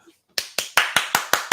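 Six sharp hand claps ring out in a steady, evenly spaced rhythm, close and crisp, after a brief quiet moment.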